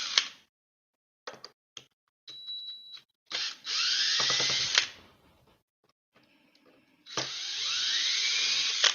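A power drill drives out screws during a scrapping teardown, with short trigger blips followed by two long whirring runs, each about two seconds, heard up close with quiet gaps between them.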